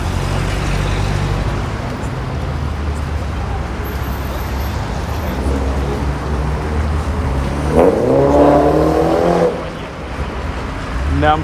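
A BMW car accelerates along Nevsky Prospekt in St Petersburg, its engine swelling briefly and loud over steady city traffic noise from other passing vehicles.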